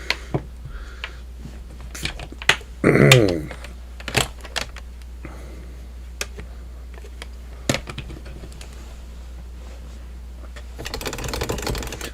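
An Atari ST computer keyboard clicks sharply under scattered typing, with irregular keystrokes spread across the stretch, one louder clattering burst near the start, and a dense noisy patch at the end.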